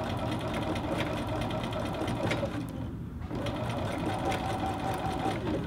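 Sewing machine running steadily as it stitches the hem of a little girl's printed dress skirt, a close continuous mechanical whir that pauses briefly in the middle.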